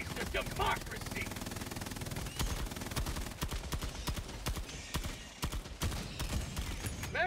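Video game sentry turret gunfire in a battle, rapid bursts of sharp shots in uneven volleys at moderate distance, under game voices calling out.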